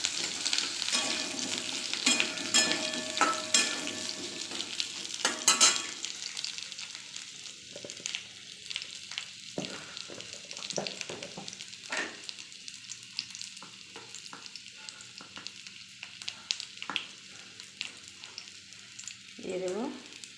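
Cut potatoes sizzling in a little mustard oil alongside ridge gourd, a steady crackling fry with occasional scrapes and clatter of stirring, fairly close and moderately loud.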